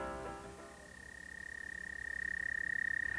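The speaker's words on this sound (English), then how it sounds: "The voices or calls of many of our toads and frogs should be familiar to those who spend some time in the outdoors" Frogs and toads calling, including a rapid pulsing trill and a steady high whistling call, near and fairly loud, alone over a faint chorus of other calls and no talk.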